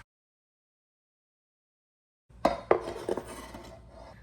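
Kitchen knife chopping bits of meat on a cutting board while making parrot chop, several sharp close knocks and scrapes in a short burst after silence.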